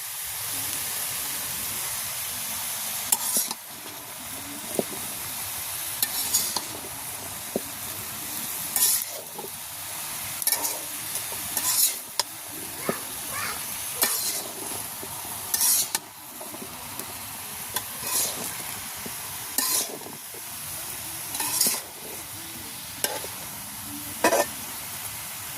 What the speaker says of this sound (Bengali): একদম লাউটা কষি।